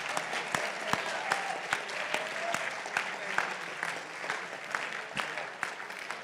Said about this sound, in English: Okay, big applause, big applause.